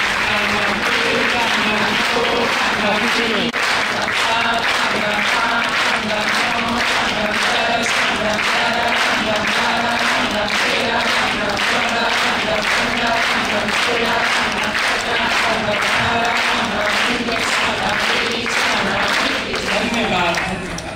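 A large audience at an unveiling event claps steadily and densely, sustained applause going on for the whole stretch, with a voice faintly mixed in.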